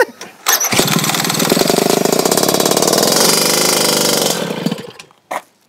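A custom-modified Piaggio Ciao moped engine fires up and runs loud and close with a steady buzzing rev for about four seconds, then cuts out into quiet with a short burst of noise near the end.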